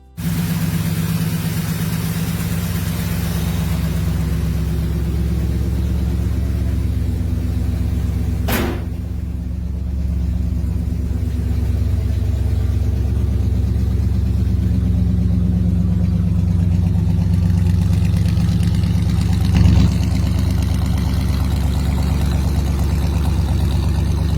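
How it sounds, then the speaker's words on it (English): A 1968 Chrysler Newport's 383 V8 with a 4-barrel carburetor and automatic transmission idles steadily and loudly up close, a deep even rumble with a couple of brief sharp clicks. "This 1968 Newport is powered by a 383 V8 engine with a 4-barrel carburetor paired with an automatic transmission."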